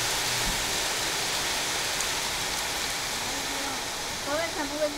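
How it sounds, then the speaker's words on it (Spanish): Hail falls in Reedley, California, as a steady, dense hiss of ice pellets striking the ground. It is loud and continuous, and voices speak briefly near the end. "Todo eso es granizo. Es hielo."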